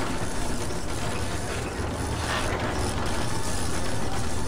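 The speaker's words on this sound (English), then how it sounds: "Boy, that wrench sound is really starting to piss me off." Continuous mechanical ratcheting of a wrench in the Prison Architect video game, a dense grinding clatter that runs steadily without a break, loud and close, with no voices.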